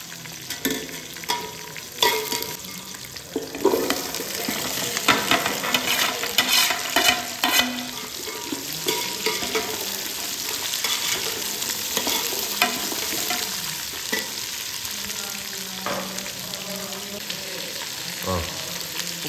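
Onions frying in a pan while being stirred: a steady, close sizzle with scraping stirring strokes that come and go throughout, and no talking.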